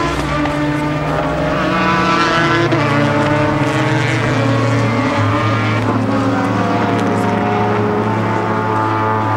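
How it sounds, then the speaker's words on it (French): Super Tourisme touring race cars circle the Magny-Cours circuit on their lap of honour, with several engines droning loudly and continuously and pitches rising and falling as they pass. "Et les voitures qui ont entamé leur tour d'honneur avant de revenir vers les stands, avant de revenir vers les podiums."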